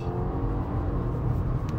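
A 2023 Subaru WRX Wagon accelerates hard, its engine a continuous loud droning roar heard from inside the car, with no one speaking.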